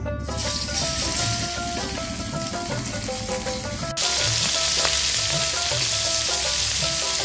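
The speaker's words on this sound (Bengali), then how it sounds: "এখন মাছটা ভেজে নিই।" Fish rubbed with salt and turmeric fry in hot oil, a loud, continuous sizzle that grows sharper and stronger halfway through, with music playing underneath.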